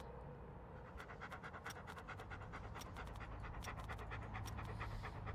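In the video game Hobo Tough Life, a dog pants in rapid, rhythmic breaths, close and continuous, with faint scratching alongside.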